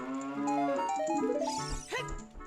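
A cow moos once in Ocarina of Time on the PC port: a long, clear, tonal low that bends in pitch, then breaks into a rougher, noisier finish.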